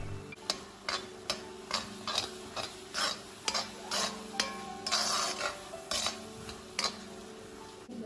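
Ground coriander and garam masala powder being stirred together in a pan, a steady run of scraping, ticking spoon strokes roughly every half second over a soft background sizzle, close and clear with no talking.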